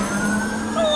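Siren from the mobile game Kick The Buddy, a steady wailing electronic tone with a low engine-like hum beneath, loud and close throughout a short burst with no talking.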